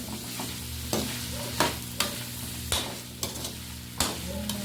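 Adobong baboy with potatoes being stirred in a frying pan, a constant sizzle broken by regular scraping strokes roughly every second, close and loud with no talking.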